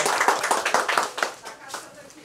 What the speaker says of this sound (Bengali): জোরে হাততালি হয়ে যাক রায়গঞ্জ ব্রাঞ্চের জন্য